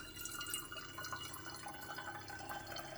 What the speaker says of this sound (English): we're going to pour this now into the bottle